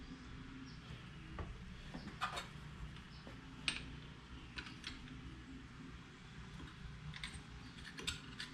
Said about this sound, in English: We're going to reinstall our spring compressor tool.